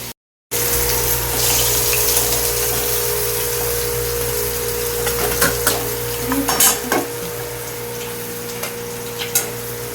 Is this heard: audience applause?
no